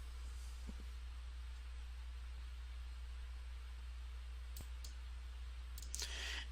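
A computer mouse gives a few faint, sharp clicks, a pair near the middle and a quick cluster at the end, over steady low hum with no talking.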